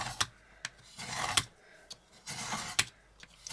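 Thick card being cut by hand with repeated rasping strokes, short scraping bursts separated by sharp clicks and brief pauses, close and fairly quiet with no talking.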